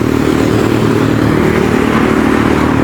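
Highway traffic passes right beside a house: a loud, continuous close engine roar with a motorcycle-like rumble and no pauses.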